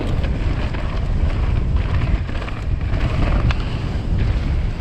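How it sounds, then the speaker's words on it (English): Strong wind buffets the microphone while riding a bike at Norco Shore Park, producing a loud, continuous low roar and rumble that persists throughout. "And it's really windy."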